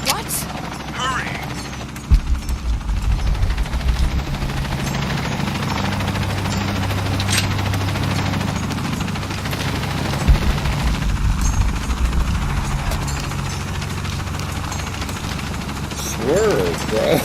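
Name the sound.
helicopter in video game Shadow of the Tomb Raider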